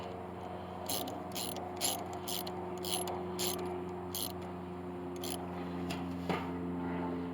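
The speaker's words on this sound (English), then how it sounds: "Let's go ahead and tighten this one down here." A hand ratchet tightens a fitting on trailer parts for a combine. It makes a run of quick, close clicking strokes in short bursts and then pauses, with a low steady hum behind it.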